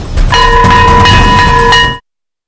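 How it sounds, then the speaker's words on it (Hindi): A bright, sustained electric school bell rings steadily for about two seconds over a noisy rumbling background in Patna, then cuts off abruptly. "बज गई स्कूल की घंटी।"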